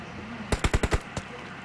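A burst of about five rapid gunshots from a weapon in PUBG Mobile, close and sharp, then a single last shot after a short pause, over quiet game background.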